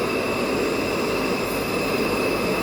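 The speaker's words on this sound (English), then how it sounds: "The blower's on and he's going to open the handle." The air blower on a Nexus 320 pond filter runs during bead cleaning, giving a loud, steady, broadband rushing roar with a faint whine, constant throughout with no speech.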